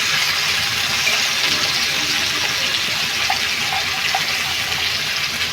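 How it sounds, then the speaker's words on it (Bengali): Potatoes hit hot oil in a pan and fry with a steady, close, broadband sizzle that holds evenly for the whole stretch, cooking for a snake gourd and potato chorchori, with no talk. "আলুগুলো ছেড়ে দিচ্ছি। একটু আলুটা ভেজে নেব।"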